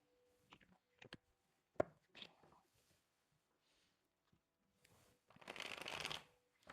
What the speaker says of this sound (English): I'm just gonna pull a couple little tarot with this.